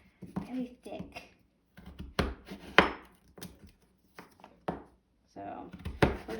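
A knife chops through coarse, very thick vegetables with heavy pressure, giving a series of loud, sharp thunks at irregular intervals, several close together, right up close with no talking.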